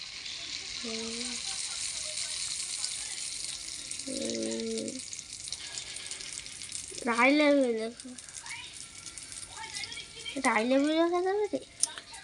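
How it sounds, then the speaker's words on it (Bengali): Pitha rice cakes fry in a pan with a steady, low, hissing sizzle that runs the whole time, while voices talk over it at intervals. "স্ল্যাবের উপর উঠে বসে ভাজছি, দেখছো কিরকম পিঠা বানানোর লোক"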